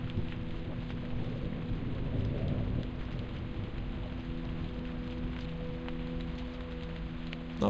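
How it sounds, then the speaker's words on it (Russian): Steady heavy rain with a low rumble of thunder in the video game Nophenia, a dense continuous wash of downpour and rolling thunder heard alone without voices. "Под деревом дождь не идет."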